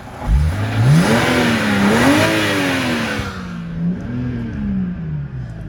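A 2006 BMW 525xi (E60) engine revs up and settles into a rising and falling whine, loud and close, then drops to a steady idle hum.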